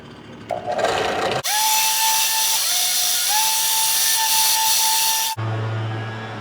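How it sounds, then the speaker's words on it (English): A palm sander with 220-grit paper smooths the rough edges of cut wooden pieces for a cupcake stand. It runs as one loud, steady whirring stretch of about four seconds, close to the mic, with no talk. "I'm going to sand the edges on them a little bit with my sander here."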